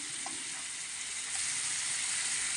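Fish fries in a nonstick pan with a continuous, even sizzle that stays close and steady throughout.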